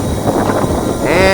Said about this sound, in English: Do have a little bit of wind here today, but not too bad at all.